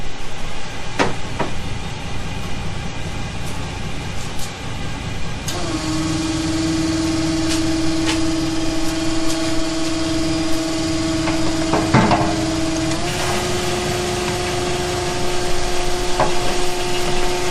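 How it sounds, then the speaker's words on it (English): Transfer pump running in a garage, moving fluid through a hose into a 55 gallon drum: a steady mechanical hum with a tone that shifts pitch partway through, continuous and fairly loud, with occasional clicks. "So let's turn on the pump."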